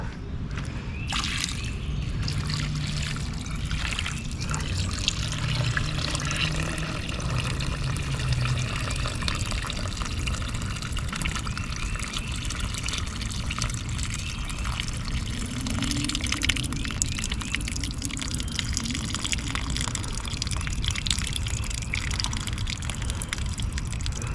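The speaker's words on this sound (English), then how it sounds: "Now let's pour the water off." Water pours and splashes steadily off a container of soil-amendment mix for a long stretch, a continuous rushing trickle with no talking over it.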